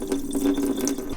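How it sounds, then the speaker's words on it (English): Cold tap water runs steadily over white rice as it is rinsed in a kitchen, a close, even stream with light splashing and no voices. "we're gonna rinse that with some cold water to get all of the starchiness off until the water runs nice and clear"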